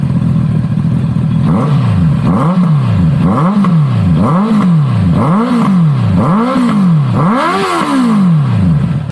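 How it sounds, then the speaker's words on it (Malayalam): Honda CBR650R motorcycle fitted with a modified exhaust, revved repeatedly in loud, close bursts, about eight rising and falling throttle blips in a steady rhythm with no talk. "അതിനുശേഷം മോഡിഫൈഡ് എക്സോസ്റ്റ് വെച്ച് CBRൻ്റെയും സൗണ്ട് ഒന്ന് കേട്ട് നോക്കാം."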